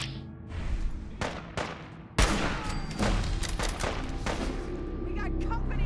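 Gunfire in the Fallout 4 video game, a dense fusillade of overlapping shots with a loud burst about a third of the way in, continuing as steady rapid fire under excited talk.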